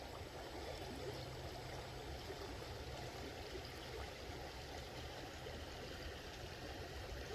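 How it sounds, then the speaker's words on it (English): A stream at a gold-prospecting spot flows steadily and fast, a constant broadband rush of moving water that fills the whole stretch with no voices. "Water's actually moving pretty good today."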